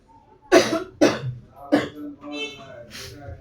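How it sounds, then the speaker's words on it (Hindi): A 20-year-old patient with fever and cough coughs on command during a medical checkup, three forceful close coughs in quick succession followed by softer throaty, voiced sounds. "खांसो बड़ी मुंडी करके खांसो।"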